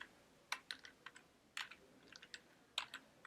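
Keystrokes on a computer keyboard while a folder name is typed into Terminal: scattered quick clicks in short bursts, close and fairly quiet, with no talking.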